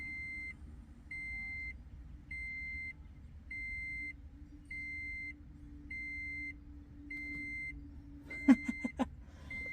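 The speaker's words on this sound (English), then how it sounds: "I think this stops the beeping." Warning chime inside a 2013 Toyota Prius, a clear steady beep repeating about every half second over a low cabin hum, ending with a few sharp clicks.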